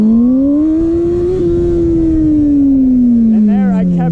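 A motorcycle engine holds a steady drone while the rider pops a small practice wheelie, the pitch rising slightly and then easing down, loud and close.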